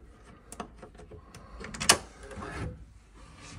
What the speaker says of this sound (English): as you open the door here